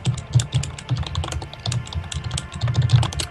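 Rapid typing on a computer keyboard during a collegiate League of Legends match, with a dense, steady stream of close key clicks and thumps.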